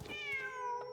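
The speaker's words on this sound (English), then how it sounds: "Meow. Wait, there it is. The cat." A cat in the video game Genshin Impact lets out a single drawn-out meow, clear and close, with a harmonic tone that slowly falls in pitch over about a second, with no talking around it.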